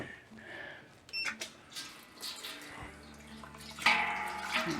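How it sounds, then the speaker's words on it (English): A litre of water poured into a home-brewing pot for an Irish stout kit, a splashing, gurgling pour with clatters and knocks that swells louder toward the end. "So I'll put another litre of water in there"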